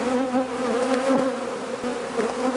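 Honeybees swarm around an open hive in a loud, dense, continuous buzz with a wavering pitch, agitated and close by, with no voices over it.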